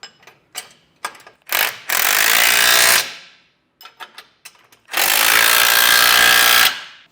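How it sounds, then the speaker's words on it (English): Bolts on a Roadmaster crossbar-style base plate are snugged down with a 3/4 inch socket and wrench, heard as close clicks and knocks followed by two long, loud bursts of harsh grinding, each lasting about a second or more. "you can take a 3/4 inch socket and wrench and snug them down."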